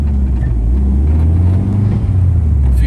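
Mitsubishi Colt Version R with a hybrid turbo driving on the road, heard from inside as a loud, steady low engine and road rumble with no talking.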